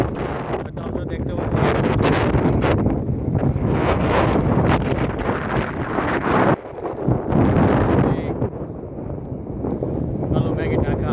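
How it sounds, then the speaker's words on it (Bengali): Strong storm wind in the UAE roars and buffets the microphone, a loud continuous rush that dips briefly midway before surging again. "ঠিক এখানে সেরকম বাতাসের একটি শস্য শব্দ শোনা যাচ্ছে"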